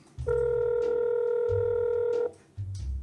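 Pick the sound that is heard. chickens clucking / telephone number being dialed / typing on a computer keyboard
telephone number being dialed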